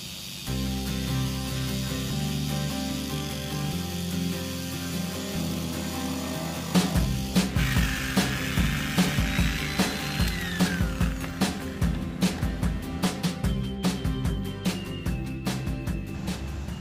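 A grinder with a cone sponge pad whirs against the inside of a metal brake drum, first a steady hum, then a rapid series of rhythmic scraping bursts as sanding continues, close and loud.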